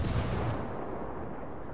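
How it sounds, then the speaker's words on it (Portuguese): A grenade blast in Ghost Recon Wildlands, heard as one heavy, booming low rumble at the start that fades into a steady rolling roar. "Granada."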